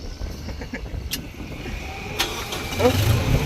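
The engine of a sugarcane loading crane cranks and turns over with a low rumble, with faint clicks and a rising engine note near the end.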